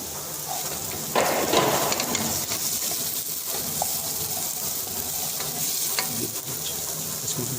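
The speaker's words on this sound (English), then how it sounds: "For the first, we'll be adding turmeric, a half tablespoon of turmeric in this." Turmeric stirred into a tomato masala frying in a pan for Punjabi lababdar. A continuous crackling sizzle plays close by, with scraping strokes of the spoon and one louder burst of spatter near the start.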